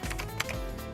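Keys clatter on a computer keyboard as a player mashes buttons while playing Borderlands 2, a quick burst of close, uneven taps over about a second.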